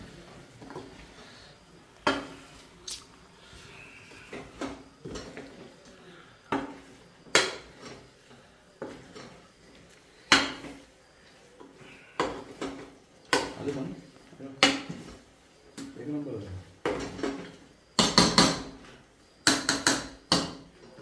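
A spoon stirring and mixing a spice-free mundi rakti dish in a metal pan, with repeated sharp clanks and scrapes coming in irregular bursts, louder and quicker toward the end, while a person talks in between.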